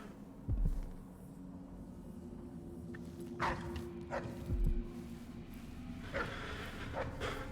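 A dog in the video game Dishonored 2 barks a few times at moderate distance, short yips spaced across the scene over a low ambient hum.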